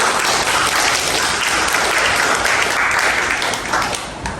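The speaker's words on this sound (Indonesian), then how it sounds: "Beri tepuk tangan untuk kelompok" A classroom of students applauding a group of classmates, dense sustained clapping filling the room at full loudness and tapering slightly near the end, with no speech over it.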